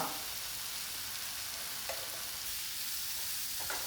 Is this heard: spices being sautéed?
yes